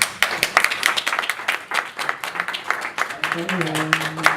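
Scattered hand clapping and applause from an audience at a press conference, a rapid uneven patter under ongoing talk, moderately loud.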